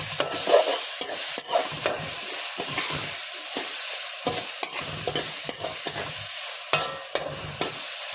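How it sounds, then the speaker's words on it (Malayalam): Onions stirred and frying in a pan until brown, with steady sizzling broken by repeated scraping strokes of a spoon, close and moderately loud, no voices. "നമ്മുടെ സവാളയൊക്കെ ഒന്ന് ഒന്ന് ബ്രൗൺ കളർ ആവുന്നത് വരെ ഒന്ന് മിക്സ് ചെയ്ത് ജോയിപ്പിച്ച് കൊടുക്കാം"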